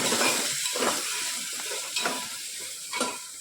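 Spatula stirring salted masala rice spices in a pan, with a steady frying sizzle and a few distinct scraping strokes spaced about a second apart, close and alone.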